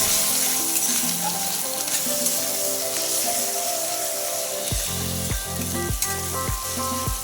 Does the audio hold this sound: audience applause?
no